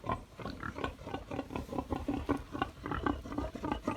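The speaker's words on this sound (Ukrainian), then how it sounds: "Також в наявності є і біле свині. Вік їхній місяць. Е, порода велика біла плюс дюрок." Month-old Large White and Duroc cross piglets kept outdoors on a Chernihiv farm grunt and squeal, a busy overlapping stream of short snorts that runs steadily throughout.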